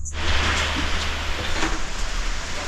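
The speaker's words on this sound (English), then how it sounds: "so just as we are leaving, the first rains of Gambia" The first rain of Gambia's rainy season falls as a dense, steady hiss across surfaces, loud and close throughout, with no voices.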